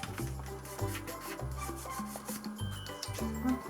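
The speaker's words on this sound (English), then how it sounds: "Fold it again. Make a really straight line with your nail." Paper being folded and creased with a fingernail while making a printable paper Christmas star, a series of soft, close rubbing and scraping strokes in an uneven rhythm, quiet and with no voices.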